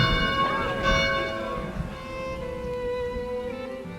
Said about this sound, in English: Let's prepare to ring the bell.